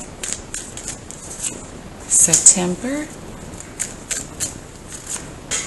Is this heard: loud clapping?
no